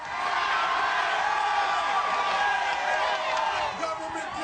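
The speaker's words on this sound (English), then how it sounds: "Thousands and thousands of people. Look at this crowd right there." A huge outdoor crowd of thousands at the 9/12 march in Washington, D.C., cheers and whoops in a loud, continuous roar that swells and fades slightly toward the end.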